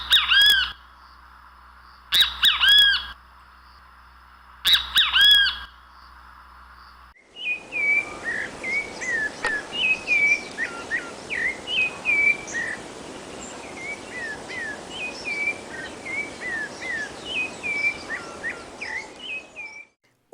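A great kiskadee (bem-te-vi) gives three loud, separated stereotyped calls, followed by a rufous-bellied thrush singing a long run of clear, varied whistled phrases over a soft background hiss.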